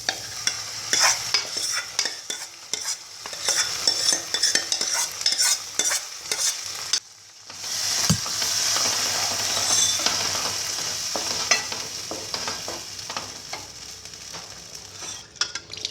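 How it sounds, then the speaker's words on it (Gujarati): Loud sizzling and frying as boiled lentils are added to spices in a pan, with steady stirring and scraping of a utensil, briefly quieting before the sizzle resumes. "હવે અંદર આપણે બાફેલી દાળ એડ કરી દઈશું।"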